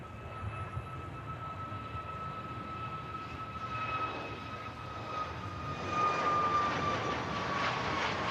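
A Norwegian passenger jet rolls along the runway at Manchester Airport, a steady distant engine roar with a thin whine that swells louder toward the end, heard from afar without talking.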